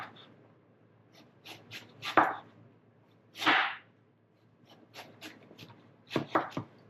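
A sharp knife cuts through a tough onion on a cutting board, giving several crisp, distinct chops spaced irregularly across a quiet kitchen, close and fairly loud against near silence.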